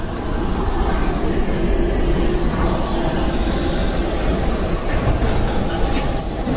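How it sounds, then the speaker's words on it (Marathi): A passenger train travelling from Saint Petersburg to Moscow rolls past at close range, with a continuous loud rumble of wheels and wagons, rail clatter and some wheel squeal, and no talk over it. "ही ट्रेन जाणार आहे मॉस्को"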